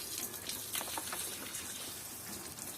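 A 12V transfer pump pushing water into a bucket, producing a continuous broadband gush and splash at steady, moderate loudness.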